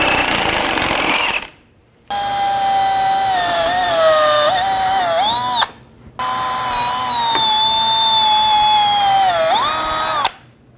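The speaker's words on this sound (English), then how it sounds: "Drill out the cotter pin." An electric drill bores out a stuck cotter pin on a 2007-2011 Toyota Camry front wheel hub, loud whining bursts whose pitch sags and rises under load, stopping twice briefly before resuming.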